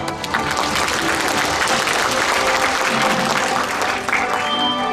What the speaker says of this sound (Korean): 그래서 오늘 때큰 박수 부탁드리겠습니다.